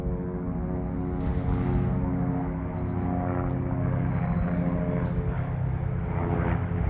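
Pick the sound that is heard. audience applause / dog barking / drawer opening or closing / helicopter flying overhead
helicopter flying overhead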